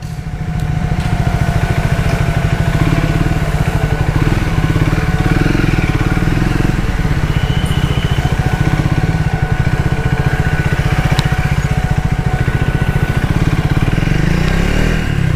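A Triumph Speed 400 motorcycle engine runs steadily nearby for about fifteen seconds, a loud, even, thumping single-cylinder idle with no clear revs and no voices.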